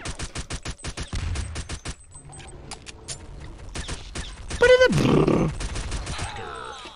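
Rapid gunshots from the video game Jaykin Bacon fire in a quick rhythmic string at the start, followed by sparser shots and a grunting voice, with a player talking over the later part.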